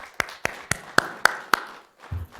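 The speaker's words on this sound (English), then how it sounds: "can we give a round of applause for everyone that's involved in hosting this real quick?" Six sharp claps ring out at an even pace at a city council candidate forum, fairly faint and sparse like a few hands rather than full applause, followed by a short low murmur.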